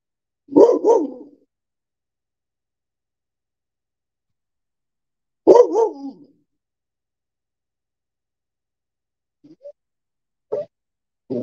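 Guard dogs bark outdoors: two loud, close bursts several seconds apart, followed by a few faint, short yelps near the end.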